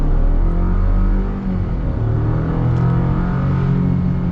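Chevy Colorado Trail Boss pickup truck climbing a hill under acceleration, a loud steady engine drone with rising tonal hum heard from inside the cab, continuous throughout.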